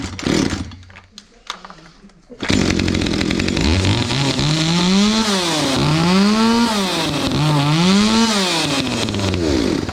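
A Husqvarna 61 chainsaw, started after long disuse, bursts into loud close running after a few quiet seconds of handling, its engine surging and dipping in repeated revs.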